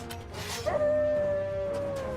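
Dogs in the video game Final Fantasy XVI give a short sequence of barks and yips, followed by a long, steady whining howl that holds its pitch, fairly close and clear with no talk over it.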